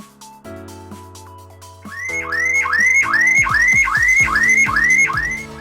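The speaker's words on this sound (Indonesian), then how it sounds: "kok alarm saya bunyi terus" A light vehicle's car alarm sounding continuously, starting with steady tones and then rising into a loud, repeating whooping siren cycle that keeps going without pause, with no talk.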